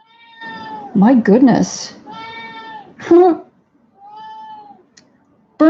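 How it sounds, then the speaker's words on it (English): A pet cat meows loudly several times, with long, drawn-out, wavering cries spaced by short pauses, close up. A person briefly speaks in between. "You hear my cat? She's got a big mouth."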